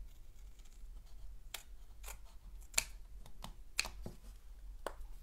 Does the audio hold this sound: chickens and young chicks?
no